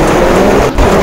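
A Volvo rally car in the racing game Richard Burns Rally roars loudly as it launches, a dense continuous engine and tyre blare with only a momentary dip.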